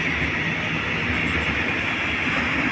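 A freight train hauling container wagons rolls past close by, a steady loud rumble and rattle of wheels with no pauses.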